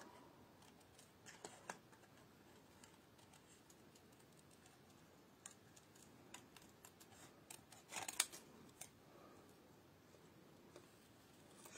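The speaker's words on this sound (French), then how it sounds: "Là, je vais juste venir passer un coup de ciseau." Scissors snipping through gilded paper to cut out a birthday message, a series of quiet close crisp snips at irregular intervals, with one sharper cut near the end.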